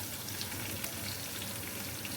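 Whole cumin seeds fry in hot oil for a masoor dal tempering, a steady dense sizzle with fine crackling pops, close and continuous throughout.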